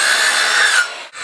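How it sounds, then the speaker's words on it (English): A Skilsaw circular saw cuts through wood while building a privacy fence, giving a loud, close, sustained whine that drops off near the end of the cut. "Cut with a skill saw."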